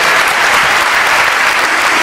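An audience at a political campaign rally applauds a singer, with dense, sustained clapping from a large crowd filling the space evenly and loudly throughout.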